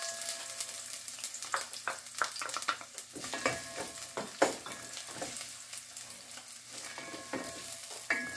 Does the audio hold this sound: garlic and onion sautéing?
yes